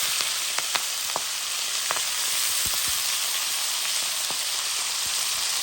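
Breaded food fries in hot oil with a steady, soft sizzle and scattered sharp crackles and pops throughout. No one speaks.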